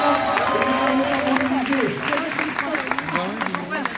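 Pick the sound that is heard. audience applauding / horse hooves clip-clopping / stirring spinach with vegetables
audience applauding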